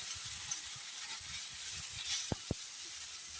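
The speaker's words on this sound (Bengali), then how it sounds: "একটু কষিয়ে নেব টমেটো পেস্ট দিয়ে" Tomato paste frying with potatoes in a pan for ghugni gives a soft, continuous sizzle at a low level, with two sharp knocks near the end and no talking.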